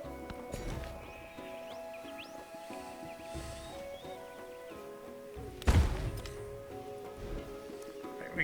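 Horses neighing and hooves clip-clopping in the strategy game Civilization VII, layered under steady game music, with a heavy thud near the middle.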